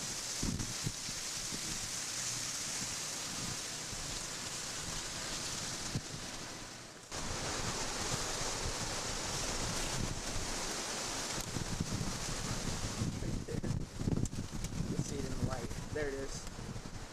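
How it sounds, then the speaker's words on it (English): A strong wind storm in Elkhart, Indiana in 1998, a constant loud roar and gusting across the microphone with rustling, while people talk intermittently. "it's starting to blow hard"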